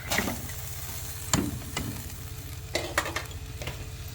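Banana blossom dropped into a boiling pot of curry with pork belly, giving a steady bubbling simmer with a few sharp splashes and clunks as pieces go in, close and alone without talk.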